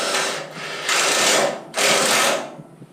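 A power drill drives a screw through a plastic clip while wiring trailer taillights, whirring in three close, loud bursts separated by brief pauses.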